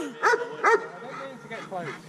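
A dog barks in an underground tunnel below Manchester City, giving two sharp close barks followed by softer yips and whines while people talk nearby.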